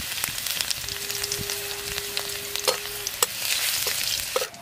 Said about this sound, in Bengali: তেলের মধ্যে রসুনটা একটু ভাজা ভাজা করে নেব